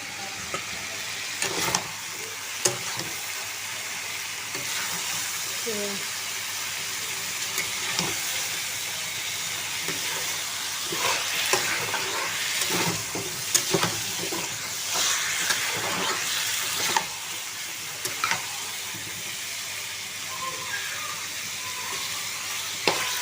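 Chicken fries in oil in a pan with a steady, close sizzle and hiss, while frequent scraping clicks of stirring sound throughout and nobody speaks.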